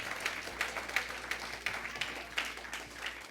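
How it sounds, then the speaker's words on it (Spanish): A church congregation applauds the Lord in rhythmic, evenly spaced claps of moderate loudness over a low steady hum, with no talk. "aplauda al Señor"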